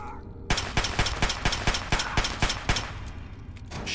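Submachine gun fire in the video game Fallout 3, played on Xbox Series X: a steady string of about a dozen evenly spaced, loud shots.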